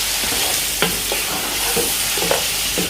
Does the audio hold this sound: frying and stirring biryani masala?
yes